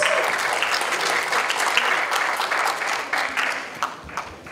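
Audience at an English competition applauds the head of the organizing department, a full burst of steady clapping that carries on throughout and thins slightly toward the end.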